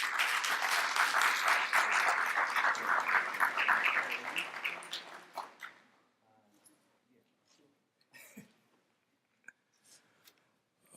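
Audience applause for a congresswoman and her team at a health policy panel, full clapping that fades out after about five seconds, leaving scattered faint claps and murmurs.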